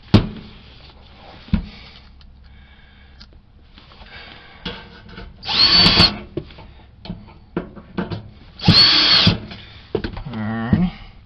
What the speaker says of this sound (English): Put our screws back in the floor